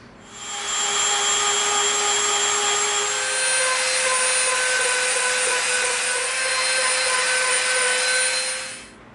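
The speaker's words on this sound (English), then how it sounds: "now we'll go in with the Dremel and we'll clean up our edges" A Dremel rotary tool sands the edges of EVA foam, a steady high-pitched whine that starts, holds evenly for several seconds with slight pitch shifts under load, then winds down, close and loud with no talking.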